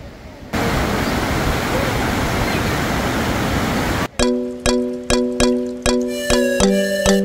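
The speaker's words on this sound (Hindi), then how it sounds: "नाल पार्वती नदी का पानी का बहाव इन्ना ज़्यादा तेज है" Fast-flowing Parvati river water at Manikaran rushing loudly as a steady roar, cut off after about four seconds by a series of bright ringing metallic chimes, like temple bells, struck one after another.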